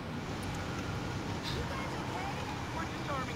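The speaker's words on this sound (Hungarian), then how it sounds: "hallod a kamion" Heavy truck from the racing game Need for Speed Payback rumbles along, a steady dense engine and road roar filling the whole stretch at an even level, with no pauses.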